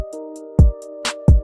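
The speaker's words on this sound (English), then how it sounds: "When the beat drops, it sounds like this." A short programmed beat made in TunePad drops in: a sustained synth chord with deep kick thumps, a hi-hat tick pattern and a snare hit, clean and close with no talk.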